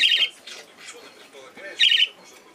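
Budgerigars chirp in short, bright bursts at the start and again near the end, with softer warbling between, recorded close by indoors and mixed with quieter background sounds.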